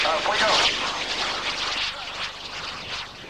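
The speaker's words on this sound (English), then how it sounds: "View of this tiny jet as Dave goes by" The world's smallest single-person jet roars past at an Avalon airshow in Australia, a loud whooshing rush that peaks early and fades, with a voice talking over it.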